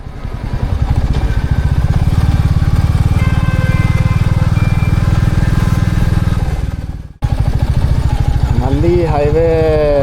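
A Royal Enfield Classic 350 motorcycle on a highway ride gives a loud, close, steady thumping engine drone, briefly cut off near the end before the same engine note returns.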